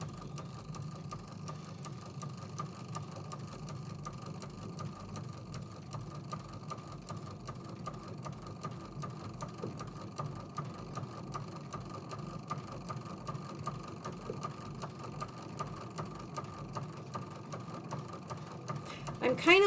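A sewing machine quilting a t-shirt table runner, running in a steady continuous hum with a fine rapid stitching pulse throughout, fairly quiet and close, with no break in the motor.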